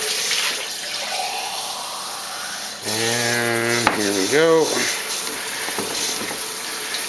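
A tap pours clean water for rinsing a stain-treated cotton garment, a steady close splash and gush that starts midway and runs under a man's brief speech.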